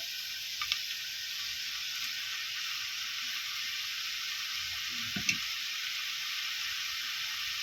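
Steady, loud sizzling of shredded milkfish frying in hot oil in a pan, with a couple of soft clicks and a brief low knock partway through.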